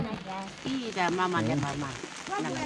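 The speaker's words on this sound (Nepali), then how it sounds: "यतिखेर चाहिँ पानी परेको अवस्था" Steady monsoon rain patters on a surface throughout, during rice paddy planting, with a voice talking and singing over it close by.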